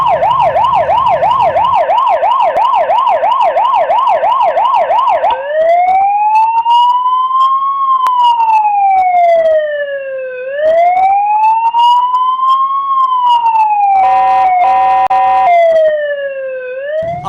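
A loud Rescue 1122 ambulance siren in Pakistan wails close by, first in a fast warbling pattern, then in long rising and falling sweeps.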